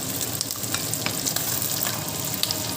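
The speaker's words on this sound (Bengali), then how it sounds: "তো দেখো এখানে আমি এখন কেটে রাখা ক্যাপসিকামটাও দিয়ে দেবো।" Chopped capsicum sizzling in a hot frying pan, a steady crackling fry with scattered sharp pops and light stirring, close and continuous without talk.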